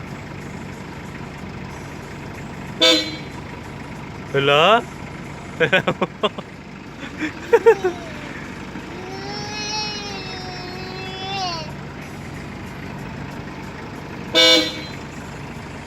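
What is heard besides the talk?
car horn honking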